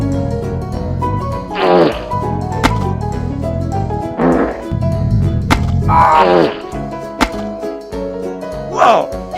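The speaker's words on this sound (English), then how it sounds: "You just farted out some action figures!" Cartoon fart noises, several loud, drawn-out blasts and sputters spaced across the span, mixed with sharp whacks and bits of background music, close and prominent.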